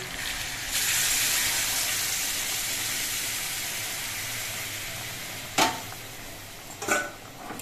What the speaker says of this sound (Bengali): আমি যে জলটা গরম করে নিয়েছিলাম সেই গরম জল দিয়ে ঝোল দিচ্ছি।